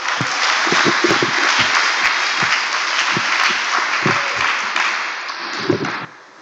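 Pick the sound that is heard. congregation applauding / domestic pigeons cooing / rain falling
congregation applauding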